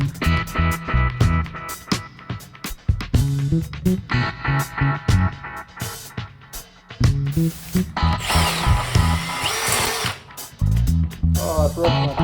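A power drill runs in repeated loud bursts in a basement machine shop, its motor whining and bogging as the bit bites into metal, with a harsher grinding stretch near the end.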